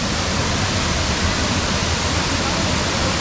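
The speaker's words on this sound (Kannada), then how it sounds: "ನೀರು ಹೆಂಗೆ ಜೋರಾಗಿ ಹರಿತಿದೆ ನೋಡಿ." Rushing water pours steadily at a waterfall near Sakleshpur, a loud, dense, continuous roar that holds unchanged throughout with no breaks.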